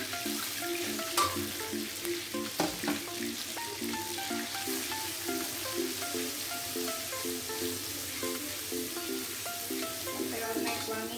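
Garlic sautés in a pan for fried kwetiaw noodles, a steady, close crackling sizzle that carries on throughout with background music playing beneath it.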